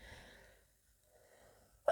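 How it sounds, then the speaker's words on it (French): A single short sneeze bursts out at the very end, after a quiet breathy stretch with a faint murmur. "Attendez, je vais éternuer."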